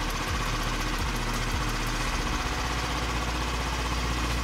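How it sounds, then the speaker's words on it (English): A restored Tomos Nitro 50 scooter engine idles steadily nearby, a continuous buzzing putter with faint low knocks and no talking. "It even idles and everything."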